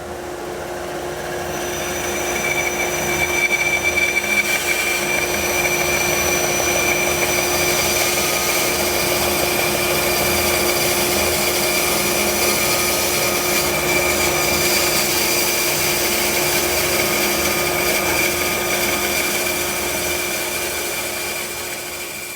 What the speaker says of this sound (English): we're just going to move over to the bandsaw and get that cut